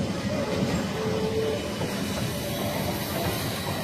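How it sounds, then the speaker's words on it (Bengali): A train pulls into Diamond Harbour station, a steady rumble of railway cars and wheels on track filling the platform with continuous, moderately loud noise and no clear voices. "এই ট্রেন ঢুকে গেছে"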